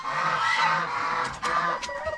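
Turkeys on a farm give loud, close gobbling calls over a steady murmur of other poultry, with no voices.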